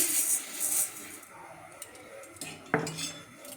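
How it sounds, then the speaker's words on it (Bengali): Mung dal is dry-roasted in a pan for vegetable khichuri, with a spatula scraping and clattering against the metal, a close hiss at the start and one sharper knock near the end, with no talking. "প্রথমে মুগ ডালটাকে ভেজে নেবো একটু।"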